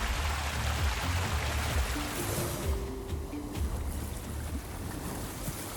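Wild river water rushes in a continuous broadband roar, a steady wash of flowing current with a slight windy edge and no voices present.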